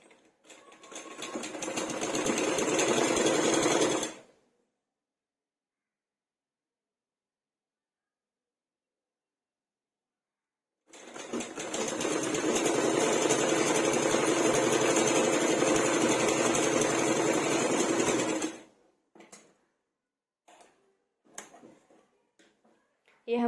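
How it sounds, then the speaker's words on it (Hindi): A sewing machine stitches blouse fabric in two long, loud, steady whirring runs separated by a silent pause, followed by a few brief clicks and handling noises. "फिर हमें यहाँ पर स्टिच करना है पहले।"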